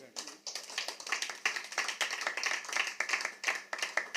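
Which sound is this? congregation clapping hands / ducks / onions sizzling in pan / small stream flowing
congregation clapping hands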